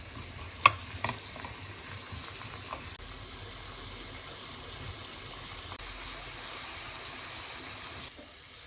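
Onions and tomatoes cooking down in a pan for a keto telur belado sauce, with a soft, steady sizzle and stirring scrapes, a few brief knocks near the start, and no voices.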